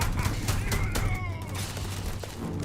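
Enemy gunfire in the Starfield video game, a series of sharp shots and bursts in quick succession, loud and close, with a player's voice heard briefly over the game audio.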